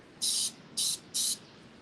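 Three short hissing bursts of hair texture spray from an aerosol can, close by, with brief pauses between them.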